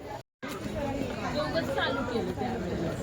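A dense crowd of devotees mills around a Ganpati temple in Sangli, making a steady, close hubbub of overlapping chatter, with a brief dropout near the start.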